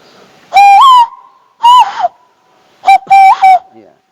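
Shrill finger-whistled bird calls are imitated by a person, with a long wavering note, a shorter one and then a quick double burst, loud and close in an otherwise quiet space.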